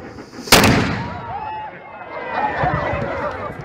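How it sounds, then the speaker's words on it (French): A single sharp boom like a distant cannon shot in Cuba, followed by a long, rolling echo and a murmur of crowd noise in the background. "le son du coup de canon a par contre été très net."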